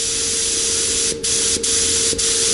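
Compressed air drives a steady, loud spray of lacquer from a spray gun at close range, a continuous hiss broken by three brief pauses as the trigger is released and pressed again.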